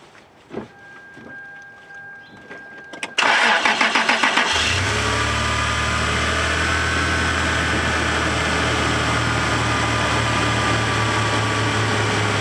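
A car with a battery too dead to click is jump-started from a Stanley 1,000 amp jump box: a short cranking burst catches into a steady, close engine idle that continues to the end.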